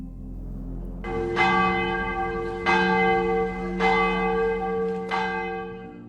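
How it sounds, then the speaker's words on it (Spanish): A church bell tolls four times at slow, even intervals, each strike ringing out and lingering before the next. "Las campanas resonaron por la ciudad, anunciando las 4, hora de meditación."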